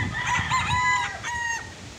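A gamefarm broodstag, a young game rooster, crows once up close in a clear, drawn-out call, with faint background noise and no talking.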